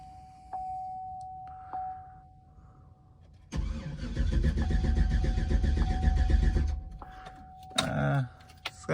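A race truck engine is cranked on a new battery on a cold day. After a quiet start with faint clicks, the starter grinds loudly for about three seconds, then stops, and a short second burst follows.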